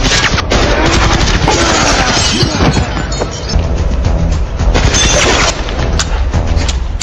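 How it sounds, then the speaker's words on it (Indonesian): Gangster boss firing a gun in the action film Diablo: a sustained, loud barrage of rapid gunshots and booming impacts with crashing debris, dense and continuous throughout. "si bos gangster datang membrutal menembaki mereka berdua"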